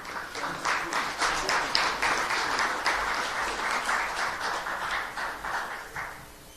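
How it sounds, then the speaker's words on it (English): Steady audience applause fills a housing affordability summit, a dense, even patter of many hands that holds at moderate loudness and tapers slightly toward the end. "let's give Lou Correa and these panelists another round of applause"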